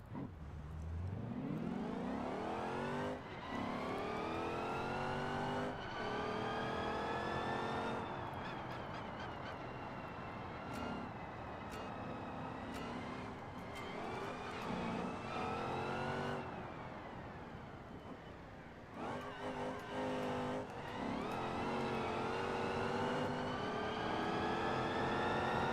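A race car engine in the GranTurismo.DRIVE driving mod revs hard, rising through gears in repeated sweeping climbs with brief drops at shifts, loud and continuous with no talk.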